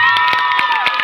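A live audience at a village stage show in Jajpur bursts into loud cheering and shouting with bright whistle-like tones and scattered clapping, a dense burst close and loud throughout.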